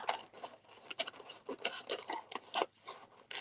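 Scissors cut gently through the lining inside a thrifted jewelry box, producing a quiet, steady series of crisp snips and rustles in close succession with no talking.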